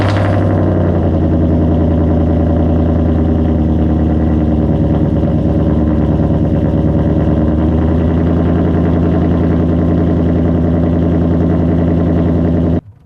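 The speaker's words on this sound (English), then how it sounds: "the cold start sounds like this." A car cold-starts with Texas Speed long tube headers and the muffler deleted, settling into a loud, steady, deep idle that drones for about twelve seconds before cutting off abruptly.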